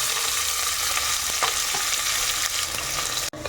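Chopped onions fry in a pan for a mutton gravy, giving a steady close sizzle with occasional stirring scrapes before a brief clatter at the end.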